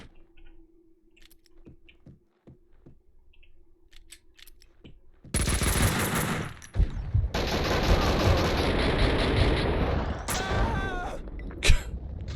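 Gunfire in the video game Max Payne 2: a few faint clicks, then a sudden loud burst of rapid shots and sustained firing for several seconds, with another sharp shot near the end.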